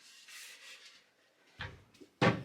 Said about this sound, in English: I think I got the first door off.